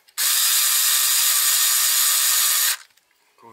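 A power tool drives screws into plastic in a crosswise order, making one loud, steady, close whir that lasts about two and a half seconds and then stops, with a faint voice heard just after.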